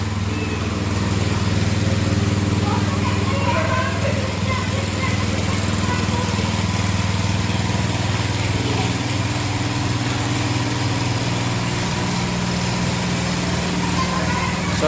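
A petrol-engine sprayer runs steadily close by with a buzzing, lawn-mower-like drone as it washes a motorbike, its tone holding even throughout with faint voices underneath.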